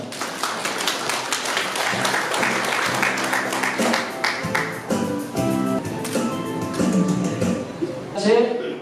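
Guests at a year-end party of a kidney-disability association in Incheon clapping, a steady round of applause while a voice talks over it, fading out near the end.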